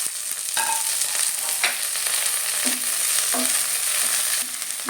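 Chopped shallots and curry leaves sauté in hot oil with a steady, close hiss and crackle, punctuated by occasional scrapes and taps of a stirring spoon against the pan; no voices.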